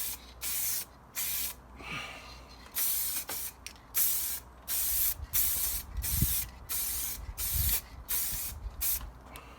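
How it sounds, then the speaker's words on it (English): A rattle can of white spray paint sprays a VW Golf Mk7 wing in about a dozen short, loud hissing bursts separated by brief pauses, with a few faint knocks and clicks between passes. "The rattle can has been coughing out some blobs"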